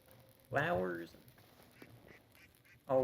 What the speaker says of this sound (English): Interesting critters and ducks